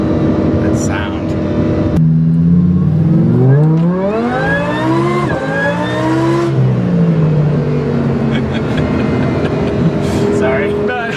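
A supercharged Lamborghini Huracan engine revs hard, climbing in pitch through rising sweeps and dropping back, loud and close, with brief exclaiming voices around it.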